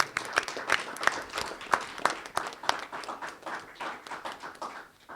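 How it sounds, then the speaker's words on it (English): Audience applause at a press conference for a bill signing in Arizona: dense, irregular clapping from a group of people, moderately loud and tapering at the end. "Join me in giving every single mom and dad in the state of Arizona a round of applause"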